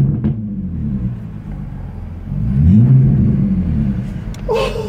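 BMW Z4 E85 3.0i with its muffler deleted, engine rumbling loudly and rising through a rev, with a brief burst near the end that may be an exhaust pop.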